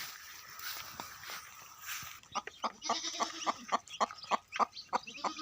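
A hen with newly hatched chicks clucks in a rhythmic series of short calls on a farm, preceded by rustling and faint background noise.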